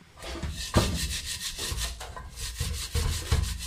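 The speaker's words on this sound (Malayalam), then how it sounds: "കണ്ടില്ലേ ജസ്റ്റ് ഉരക്കുമ്പോൾ തന്നെ ഇവിടെ പോരുന്നുണ്ട് അധികം ബലം പിടിക്കേണ്ട ആവശ്യമൊന്നുമില്ല" A pan with burnt-on residue is scrubbed with cleaning liquid in quick, rough, close-up strokes, each rub a gritty burst with short pauses between.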